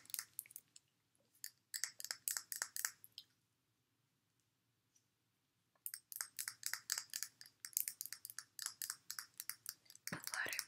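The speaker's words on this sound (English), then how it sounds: "The water bottle sounds different" A partly empty water bottle with a metal part is handled close to the microphone in a quiet ASMR setting, making rapid crisp clicks and crinkles in two bursts separated by a few seconds of near silence.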